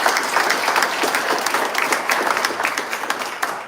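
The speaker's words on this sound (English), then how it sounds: "Let's give them a round of applause." Audience applause at a Typhoon Preparedness Month proclamation signing, a dense, sustained patter of many hands clapping indoors, steady and fairly loud throughout with no talking.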